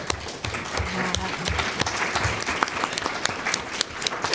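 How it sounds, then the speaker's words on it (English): A book festival panel audience applauds its panelists with steady, dense clapping throughout, fairly close and full, with some sharper individual claps standing out. "Maybe we can have a round of applause for our panelists."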